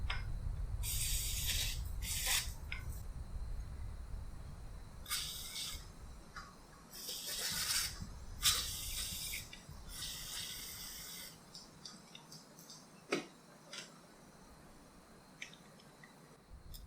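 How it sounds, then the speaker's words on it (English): Electrical contact cleaner sprayed into the handlebar switch housings of a 2007 BMW F650GS motorcycle, in several hissing bursts of varying length, close up and fairly loud, with quieter gaps between them and no talking. "I'm just going to use some electric cleaner"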